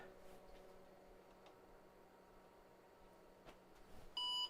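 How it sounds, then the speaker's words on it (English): A 35-year-old PC's front speaker gives its power-on self-test beep while booting into DOS: one short, clear electronic tone arrives near the end after a quiet stretch of faint hum and ticks. "And then it'll beep."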